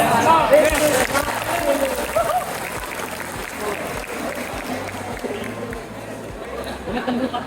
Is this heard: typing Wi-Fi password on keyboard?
no